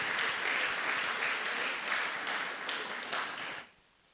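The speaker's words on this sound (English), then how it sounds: "can I have a round of applause for them?" Audience applause for students from schools around Lagos at a televised event, a dense, even crowd clapping that holds steady and then stops abruptly just before the end.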